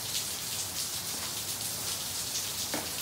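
Steady rain pours outdoors in the Arizona desert as a dense, even hiss of drops hitting surfaces, loud and continuous with occasional louder splashes.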